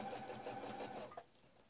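Sewing machine stitching a curved quilting line guided by a ruler against the foot, a steady rapid mechanical whirr running close and loud for over a second before stopping abruptly.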